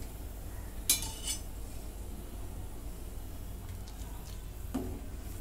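A metal spoon clinks against a pot while stirring garam masala into an egg curry, giving a few faint, sparse scrapes and taps over a quiet background.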